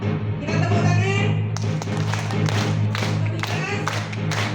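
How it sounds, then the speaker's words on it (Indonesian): Audience at a public speaking lecture clapping hands together, a steady sustained patter of many claps with music playing underneath and a few louder thuds. "Oke, kita tepuk tangan."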